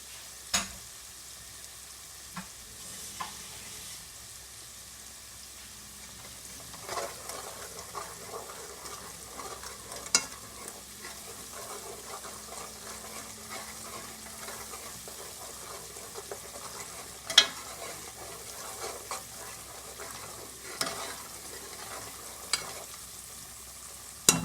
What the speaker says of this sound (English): And I have to keep stirring it because I don't want it to burn.